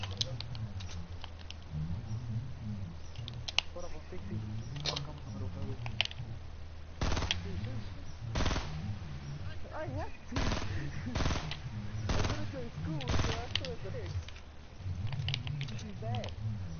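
Gunfire rings out in a Fortnite match as scattered sharp cracks and several louder single shots come in the second half, with a player talking over the action.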